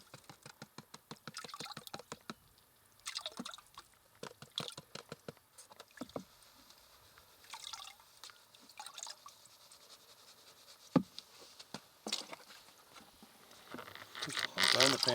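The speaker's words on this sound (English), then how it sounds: "Time to pan that dirt out of there" Dirt is panned in water for gold, giving rapid rhythmic sloshing and splashing close by, settling into softer trickles and drips, with people talking in between.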